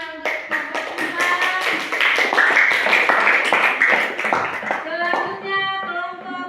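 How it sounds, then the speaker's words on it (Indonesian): Classroom audience of children clapping for a student group after its presentation, a dense run of hand claps at steady volume that tapers near the end, with some children's voices mixed in. "tepuk tangan untuk kelompok Prisma"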